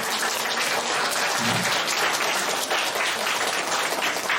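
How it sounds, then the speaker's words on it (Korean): A members' meeting crowd applauds in thanks, producing a continuous, dense wash of clapping from many hands at moderate loudness throughout, with no talk over it. "감사의 박수."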